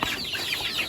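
Lavender Orpington chickens making soft, close clucking and chirping calls in a brief burst, steady and moderately loud with no talking.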